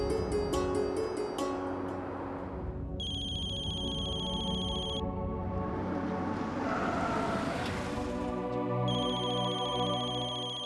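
A mobile phone rings with an incoming call, a repeating electronic ringtone melody with bright beeping tones, heard clearly and alone in an indoor scene, looping several times.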